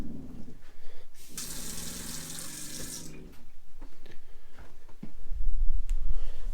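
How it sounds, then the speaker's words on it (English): Water gushes from an upgraded kitchen faucet in a 2017 Jayco Eagle HT 29.5BHDS travel trailer with the water pump switched on, a loud, bright rush for a couple of seconds amid handling clatter and low thumps. "Turn the water pump on."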